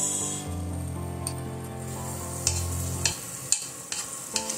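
Butter melts in a hot pan for an easy evening snack roll, giving a faint, soft sizzle over a low steady hum, with a few sharp clicks and taps near the end.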